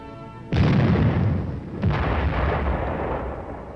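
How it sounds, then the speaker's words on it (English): An M52 105mm howitzer fires directly at close range: one sharp, loud blast with a long rumbling decay, followed a little over a second later by a second heavy boom and rolling echo. "105mm howitzer provides support from close range for the armor team"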